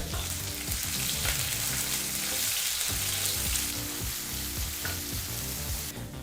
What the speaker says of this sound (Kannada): ಈರುಳ್ಳಿನ ಎರಡು ನಿಮಿಷಗಳ ಕಾಲ ಮೀಡಿಯಂ ಫ್ಲೇಮಲ್ಲೇ ಫ್ರೈ ಮಾಡ್ಕೋಬೇಕಾಗತ್ತೆ